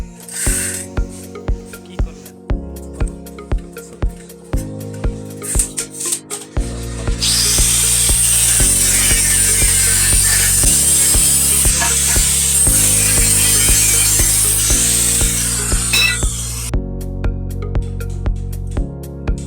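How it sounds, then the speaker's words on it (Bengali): A power tool cuts the chassis box for a Mishuk rickshaw, starting with short repeated bursts, then a long, loud, continuous grinding cut of about ten seconds, and ending with more short bursts. "উপরে সেসিসের বক্সটা কাটতেছি আমরা"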